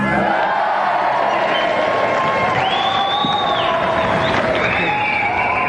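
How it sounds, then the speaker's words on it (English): Studio audience of a early-1990s video games TV show breaks into sustained applause with cheering and whoops, a dense crowd roar holding steady throughout with a host's voice faintly underneath. "And a round of applause again for Tony Rice!"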